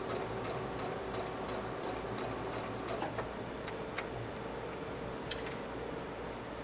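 A sewing machine stitches slowly in reverse over ribbon along the seam of a colonial costume dress, giving a faint, quiet run of evenly spaced ticks and light mechanical clicks over a low hum.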